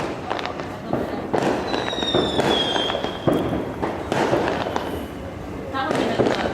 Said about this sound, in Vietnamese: Đốt quả pháo chắc gì đã nổ.